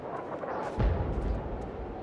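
In Fallout 3, a deep, booming explosion like artillery fire hits with a low rumble and then lingers over steady background battle noise, with no talk.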